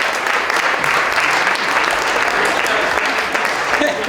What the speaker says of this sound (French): on les applaudit quand même